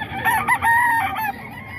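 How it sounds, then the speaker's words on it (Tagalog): A chicken gives a drawn-out, rising-and-falling clucking call of a few linked notes, near and fairly loud, over steady low background noise at a Bukawi poultry market. "Maamong manok oh."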